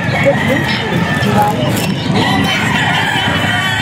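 A Lemon Sweater bullstag gamefowl rooster at a Bocaue game farm crows and clucks close by, loud and continuous, while someone talks over it.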